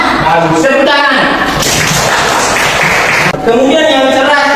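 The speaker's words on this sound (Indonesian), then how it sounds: "Bagus, tepuk tangan." Classroom applause from pupils during a lesson: a loud, dense burst of clapping that lasts about two seconds between stretches of a teacher's voice.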